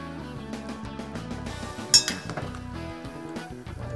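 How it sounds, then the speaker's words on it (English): Chicken curry being stirred in a Lodge cast iron Dutch oven, with scattered metallic clinks and scrapes of a utensil against the pot and one sharper knock near the middle, close and with no talking. "I'm just going to stir this up a little bit so that all the pieces get a chance to boil evenly here."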